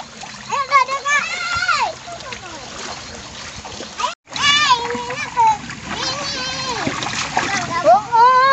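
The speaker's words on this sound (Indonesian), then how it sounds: "Kecil lagi main air." Children splash and play in water, with bursts of splashing mixed with their excited chatter and shouts throughout, broken by a brief silent gap midway.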